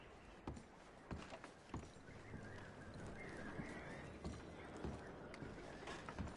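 Horses in the video game Red Dead Redemption 2 clip-clop with irregular hoof knocks, fairly faint, over a low rustling outdoor ambience.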